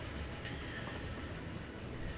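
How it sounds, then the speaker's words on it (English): A train running in the Transport Fever 2 video game gives a steady, continuous rumble with broadband rolling noise, held at an even level throughout with no talk over it. "And there goes the train"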